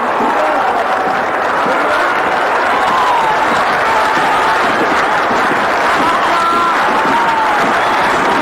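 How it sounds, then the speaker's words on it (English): Cricket ground crowd in 1987 applauding and cheering as bowler Clive Rice runs in, a loud, steady roar of clapping and crowd noise filling the whole stretch, with a few faint whistles and calls rising above it. "Now they begin the applause in support of Clive Rice as he moves in to Maguire"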